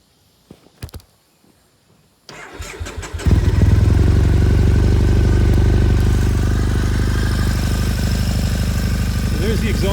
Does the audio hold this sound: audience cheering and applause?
no